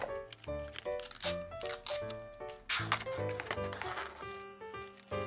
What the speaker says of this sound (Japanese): このようにテープで留めていきます